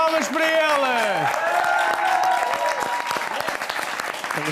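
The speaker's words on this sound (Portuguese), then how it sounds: "Palmas para elas!" Studio audience applauding on a Portuguese television talk show, a dense, sustained wash of clapping heard close and loud throughout, with a few voices and whoops mixed in.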